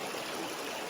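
A small creek in the woods flows steadily with a close, continuous watery rush and trickle, loud and unbroken with no voices.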